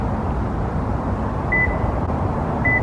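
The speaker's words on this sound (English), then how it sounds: "we're waiting for a tone" A Subaru Crosstrek key fob emits two short, thin electronic pairing beeps while setting up a keyless PIN code, the tones spaced about a second apart over a steady low engine-like hum.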